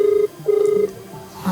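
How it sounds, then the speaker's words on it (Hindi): Ringback tone on an outgoing phone call to a health committee official: two steady, loud ring bursts separated by a short gap, then a fainter third tone trailing off, with no talking. "स्वास्थ्य समिति के जो अधिकारी हैं सत्यनारायण जी, उनको कॉल किया जा रहा है इनके द्वारा"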